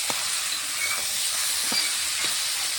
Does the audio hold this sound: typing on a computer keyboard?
no